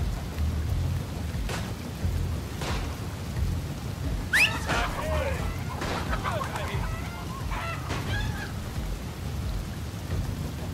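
A thunderstorm in the Western game Desperados III: steady rain hisses throughout while low thunder rumbles, with a few sharper cries and noises standing out near the middle.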